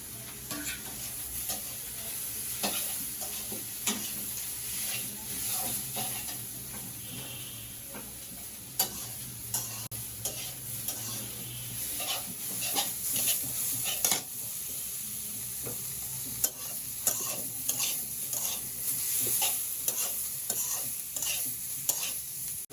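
Bottle gourd greens frying with onion and garlic in a pan, a continuous sizzle under frequent stirring scrapes and light ticking clinks of a utensil against the pan.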